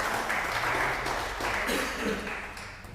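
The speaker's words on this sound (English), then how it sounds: "Round of applause for our panelists and Greg" Audience at a first-generation welcome lunch applauds the panelists, a steady wash of many hands clapping at moderate volume throughout, with faint murmuring underneath.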